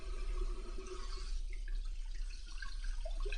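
Water runs steadily from a salon shampoo bowl faucet, a close, continuous splashing hiss with faint drips and gurgles as the stream hits the basin and hair, no voices.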